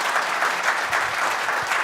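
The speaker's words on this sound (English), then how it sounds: "So again, just a really big round of applause" A church congregation at a Sunday service applauds warmly, a brief, even burst of many hands clapping together at close range.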